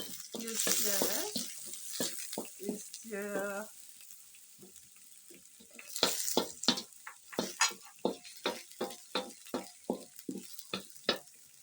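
Onions and red bullet chili frying in a pot over a village cooking fire, with a steady sizzle under repeated scraping stirs that grow into a regular rhythm, and some brief voiced sounds early on.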